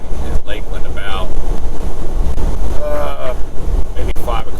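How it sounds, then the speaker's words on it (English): Strong wind gusts of 35 to 45 mph buffet a moving semi tractor-trailer, producing a loud, constant roar with surging gusts, and a voice speaks over it. "The gusts can be 35 to 45 miles an hour."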